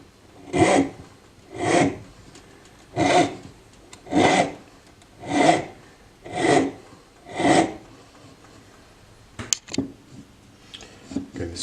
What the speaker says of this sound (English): this is titanium, not the easiest metal to file